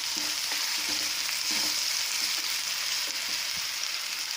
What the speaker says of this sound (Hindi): इनको सब्जियों को भूनेंगे।